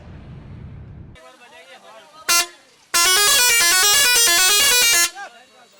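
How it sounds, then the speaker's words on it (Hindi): Loud pressure horn on a vehicle in city traffic blasts a short toot, then a sustained multi-tone melodic honking lasting about two seconds, with talk and street noise around it. "जो आप प्रेशर हॉर्न लगा करके कर रहे थे शहर में"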